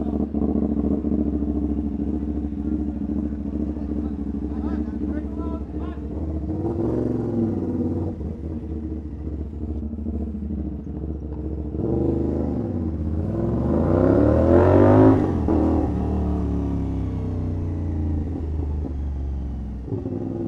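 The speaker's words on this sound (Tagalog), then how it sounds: "Ang ingay ng motor mo!" A loud 450SR motorcycle engine rumbles steadily up close, its revving rising and swelling toward a peak before settling back to a throaty idle.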